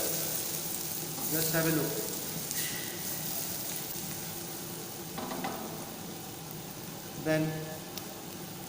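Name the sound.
onions frying with degi mirch in a pan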